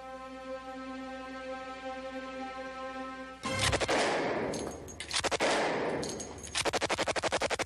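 A Thompson submachine gun fired by women on a range, steady hum first, then loud bursts of rapid full-auto shots in several strings, the last a crisp rattling volley.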